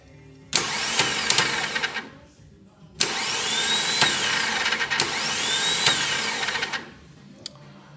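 A starter motor cranks a Mk2 Scirocco's 20vT engine in two long bursts of whirring, each lasting a couple of seconds, close and loud, after the flywheel has been swapped for an Audi unit; no one speaks.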